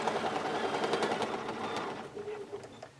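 A sewing machine stitches a quilted circle with a close, continuous buzzing whir that slows and thins toward the end as the fabric is turned.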